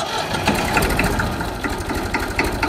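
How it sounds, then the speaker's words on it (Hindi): A tractor engine running at idle near a Bullet motorcycle, a close, steady rhythmic chugging with regular knocking pulses throughout and no talk. "तो आज भी ट्रैक्टर स्टार्ट करते हैं, इसका साउंड सुनाते हैं"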